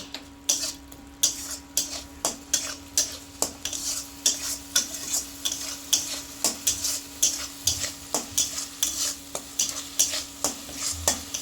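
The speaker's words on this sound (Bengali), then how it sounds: "এবারে ভালো করে মশলাটা কষিয়ে নেব।" Chilli, turmeric and cumin powders being sautéed for a spinach dal, with a spoon scraping the pan in a steady, regular rhythm over a soft sizzle.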